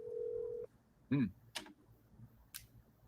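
A telephone places a call: a short steady tone sounds, followed by a few brief electronic blips and clicks, with nobody talking over it.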